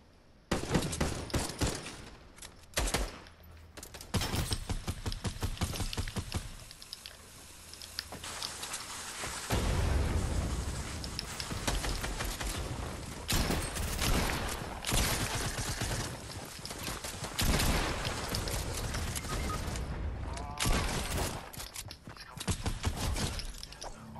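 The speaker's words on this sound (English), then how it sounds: "Oh, they're shooting at me while I'm gliding." Video game gunfire from several shooters while the player glides, rapid loud bursts and crackling volleys repeating almost continuously, dense and close throughout.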